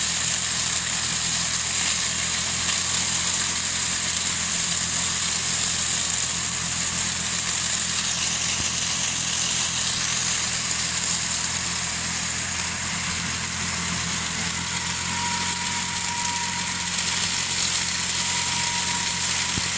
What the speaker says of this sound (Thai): รถสางใบอ้อยนะครับก่อนที่จะมีการตัดก็จะมีการ รถสางทำงานล่วงหน้าไปก่อน